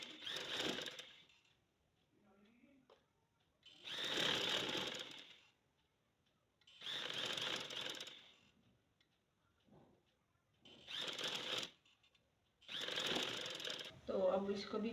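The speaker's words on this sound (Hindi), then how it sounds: "अब इसको भी हमने किनारी की सिलाई पहले लगानी है।" Sewing machine stitching along the edge of lace, five close bursts of rapid mechanical whirring lasting a second or two each, separated by quiet pauses with faint handling and a brief murmur of speech.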